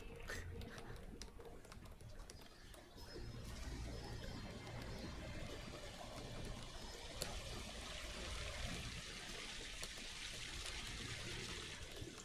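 Steady waterfall rush in Final Fantasy XIV, a constant broadband hiss and splash of falling water holding evenly throughout, with faint game ambience and a voice talking over it at times.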